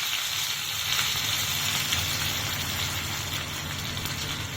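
Mustard seeds, cumin seeds and curry leaves sizzle in hot tempering oil for dosa, a steady close crackle and hiss with tiny pops, constant throughout with no voices.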